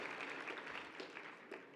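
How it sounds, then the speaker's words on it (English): A brief smattering of light applause from an audience at an annual dinner, soft and diffuse, fading in and out over a couple of seconds with a faint voice in the background. "All right, a little clap, there we go."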